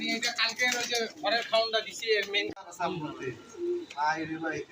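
Pigeons in a loft coo in soft, repeated throaty calls, close by and overlapping, with people talking throughout.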